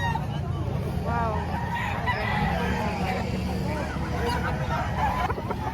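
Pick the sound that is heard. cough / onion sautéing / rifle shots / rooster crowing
rooster crowing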